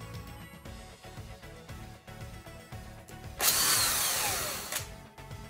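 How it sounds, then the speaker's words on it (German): A small drill bores 2 mm holes in a model railway module, giving a brief close whir that rises over quiet bench noise. "bohre ich 2 mm Löcher"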